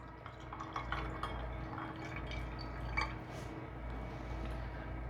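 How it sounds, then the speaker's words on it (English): Rosé-coloured tea poured into a glass, a continuous liquid trickle with small drips and splashes, close and moderately quiet over background noise. "So I'm just gonna pour this right in here."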